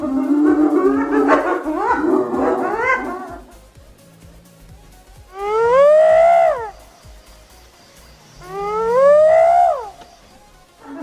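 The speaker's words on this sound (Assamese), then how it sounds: "হাইনা অসমীয়াটো হাইনা কোৱা হয়" A hyena calls up close and loud: first a jumble of yelps and chattering cries, then, after a short pause, two long rising whoops spaced a few seconds apart. No voices.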